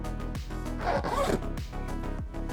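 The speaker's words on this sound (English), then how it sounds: "There's a zipper, this top zipper up here, gives you direct access into the top compartment where the roll top goes into." A zipper on the top compartment of a Wandrd Prvke V4 camera backpack is pulled open in several quick, close rasping strokes, loud and alone.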